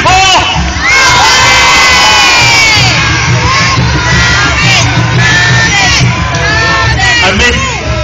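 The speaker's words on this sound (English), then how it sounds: "Who are we cheering for?" A large festival crowd at a jousting tournament cheers and shouts loudly and continuously, with children's high voices and whoops rising above the steady roar.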